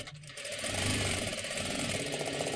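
A sewing machine runs steadily at close range, stitching the neckline of a girl's jacket made from a saree's pallu, its rapid needle rhythm holding an even pace.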